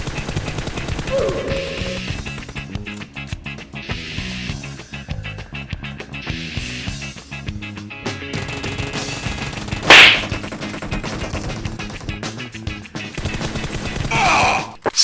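Gunfire rattles in PUBG Mobile, with bursts of rapid shots and sharp single cracks repeating through the whole stretch over constant game background noise, loud and fairly close.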